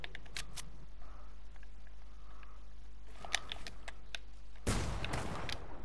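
Automatic gunfire sprays at an enemy in a multiplayer arena video game: scattered sharp shots early on, then a dense, loud burst of rapid fire over the last second, with no talk.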